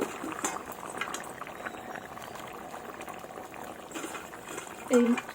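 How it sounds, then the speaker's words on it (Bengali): Fish curry broth of small fish bubbling at a steady boil in a pot, a continuous soft rolling gurgle with a sharper bubble pop near the end, with no voices. "তো ঝোল আমার ফুটে গেছে বন্ধুরা, তোমরা দেখতেই পাচ্ছ"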